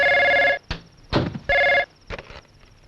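An old-style telephone bell rings in two loud bursts of about half a second each, separated by short sounds of movement, with a brief voice-like noise between the rings.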